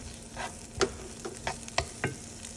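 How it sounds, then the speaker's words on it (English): Green pepper is stirred in a hot frying pan with oil, sizzling steadily up close while sharp scrapes and taps of a utensil sound several times, with no talking. "So to this pan, I'm adding in some green pepper."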